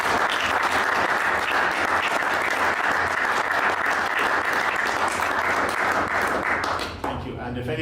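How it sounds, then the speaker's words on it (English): Sustained round of applause from the audience at the European Open snooker and billiards event in Vienna, dense steady clapping that thins out near the end. "We might give a little round of applause for PJ Nolan's dad."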